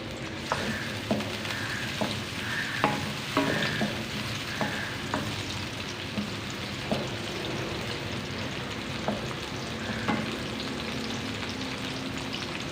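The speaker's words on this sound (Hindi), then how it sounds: "ये मैंने 1 प्याज लिया है मीडियम साइज़ का, ये छोटा छोटा काट के डाल दिया है।" Finely chopped medium-sized onion frying in hot oil, a continuous dense sizzle with regular spatula scrapes and taps against the pan throughout.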